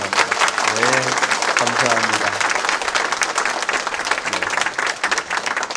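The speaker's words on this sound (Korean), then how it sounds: "우리 큰 박수 한번 해주시기 바랍니다" A Sunday worship congregation breaks into big applause for a young member, dense sustained clapping filling the room while a voice speaks briefly over it near the start.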